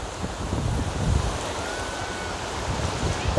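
Steady rushing surf and wind noise washing over the microphone, with no clear individual wave breaks.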